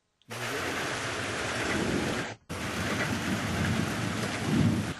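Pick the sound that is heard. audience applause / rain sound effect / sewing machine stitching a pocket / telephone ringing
rain sound effect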